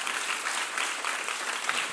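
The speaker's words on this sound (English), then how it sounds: "let's go ahead and give her a big round of applause" A large audience applauds a guest speaker at a counseling center event, producing a steady, dense wash of clapping that holds evenly for the full stretch, with no voices over it.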